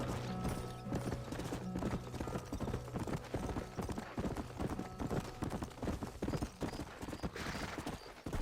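Horse hooves clip-clop in a steady galloping rhythm in the video game Red Dead Redemption, with an occasional whinny and game background sounds.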